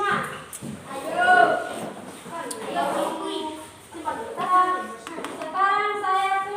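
Children in a classroom clap their hands in rhythm while singing a song together, with sharp taps scattered under the voices.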